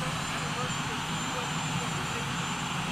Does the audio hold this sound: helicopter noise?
yes